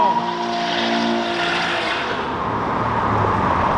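A modified Toyota Supra engine revs hard and steadily, the pitch sliding and climbing over a few seconds, loud and close.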